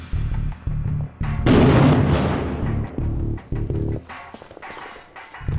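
A frag grenade blast in the war shooter Six Days in Fallujah, one loud booming burst with a rolling tail set among steady low battle rumble and several sharper thumps.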